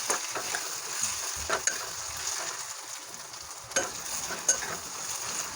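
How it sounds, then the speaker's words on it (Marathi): Onions sizzle in a pan for an egg curry as they fry until pink, a moderate steady hiss broken by occasional spatula scrapes and small taps against the pan; no voices. "कांदा छान गुलाबी कलरचा झाला आहे भाजून"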